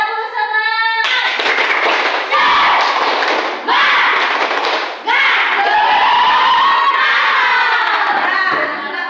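Schoolchildren in an Indonesian classroom perform the 'tepuk semangat' clapping chant, a loud, rhythmic burst of group clapping and shouted chanting in several quick phrases, led after a teacher's spoken prompt.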